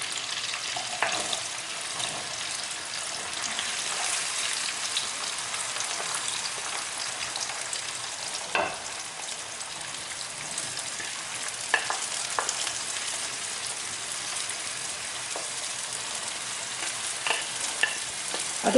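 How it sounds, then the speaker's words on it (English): Peppers frying in oil in a turkey curry, giving a steady, dense sizzle throughout with occasional louder scrapes and clicks as the pan is stirred, close and continuous, with no voices. "So I'm going to add the peppers now."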